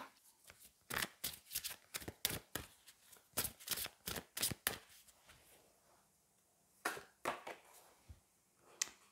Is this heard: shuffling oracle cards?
yes